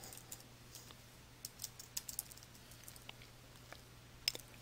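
Soft, quick keystrokes on a computer keyboard as a company name is typed into a field in QuickBooks Pro 2015 software, faint and irregular over a steady low hum.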